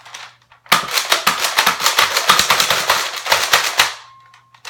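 Nerf Surge Fire spring pump-action blaster firing darts in a fast run of sharp snapping shots, about twenty in quick rhythm, close and loud, then a brief tail.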